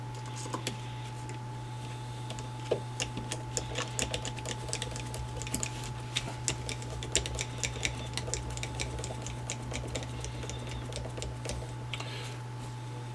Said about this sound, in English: then just put in the screws in reverse